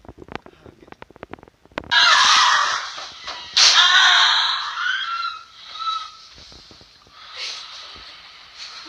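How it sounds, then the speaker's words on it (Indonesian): A woman's high, strained scream bursts out at night in a recording after scattered clicks and thumps, repeating in a few long wailing cries that fade toward the end. "tiba-tiba ada perempuan teriak"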